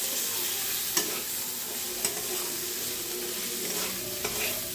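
Jackfruit (echor) pieces sautéed with ground spices in a pan for a Bengali vegetarian curry: a constant close sizzle with a few sharp scrapes of a spatula stirring, no voices.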